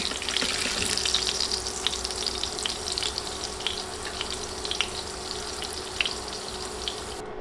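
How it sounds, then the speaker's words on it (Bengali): Potato pieces frying in hot oil, a steady close hiss of sizzling with small crackles and pops running evenly throughout, no voices. "নেড়ে নেড়ে আলু ভেজে নিয়েছি"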